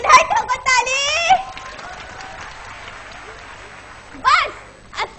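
Audience at a school drama performance in Bhiwandi breaks into short bursts of clapping and cheering among children's voices, with loud stage dialogue dominating the first part.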